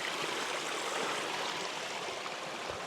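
A creek flows over its rocky bed in a steady, broadband rushing and burbling that stays constant and fairly close, with no voices.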